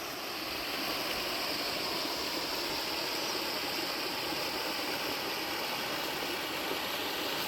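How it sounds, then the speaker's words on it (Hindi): A small waterfall on the Narmada river sends out a steady, even rush of falling water that holds without breaks. "यहाँ पे बहुत ही खूबसूरत छोटा झरना बन रहा है"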